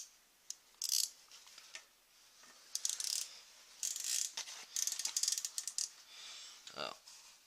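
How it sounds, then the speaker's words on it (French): A ratchet tightens the screws on a rear brake caliper while brake pads are refitted, producing close, bright clicking bursts in short irregular runs with quiet gaps, and no voice over them. "là justement nous allons procéder à ce serrage"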